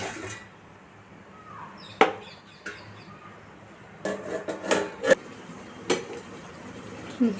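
A ladle scrapes and clanks against a pot of mutton for gongura dum biryani, followed by the knock of a lid set on top; sparse, close metallic clinks with quiet gaps between them.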